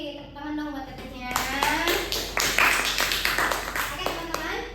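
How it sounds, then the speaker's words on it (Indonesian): Classmates in a classroom clap for a student, a burst of many hands starting after a spoken line and continuing steadily at moderate loudness, with children's voices mixed in. "tepuk tangan dong buat tetehnya"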